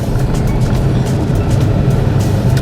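Street traffic in Jaipur heard from inside a car as a continuous low engine and road rumble, loud and steady, with faint passing-vehicle swells and no speech.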